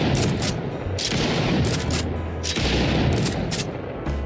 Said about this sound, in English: So it killed the red bot and it's still shooting.